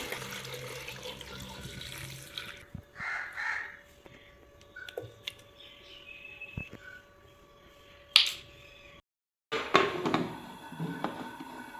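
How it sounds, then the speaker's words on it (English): Half a liter of water splashes and trickles as it is poured in short runs into a cooking pot for mutton korma, with clinks of the pot and quiet kitchen clatter between pours. "Then add half-liter water and salt"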